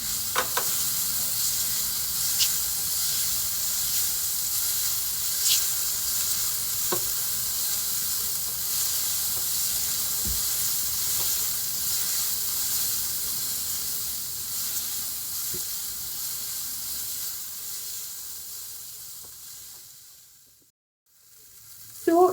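Okra (bhindi) fries in a pan with a steady, dense sizzle and hiss that runs for a long stretch, a few light clicks over it, before cutting out abruptly near the end.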